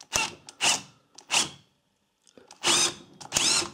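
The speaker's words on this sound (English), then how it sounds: "I'll find these impact wrenches, get these off a lot easier." An impact wrench loosens the flywheel rotor nut on a KTM Duke 125 motorcycle in several short, loud bursts of whirring and rattling. Brief pauses separate the bursts.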